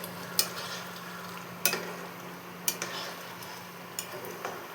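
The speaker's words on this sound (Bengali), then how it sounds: "এর মধ্যে এবার আমি ভাজা চিংড়ি মাছটা দিয়ে দেবো।" Fried prawns added to a simmering curry in a pan give a low, continuous sizzle, broken by a few sharp clicks and taps of a utensil against the pan.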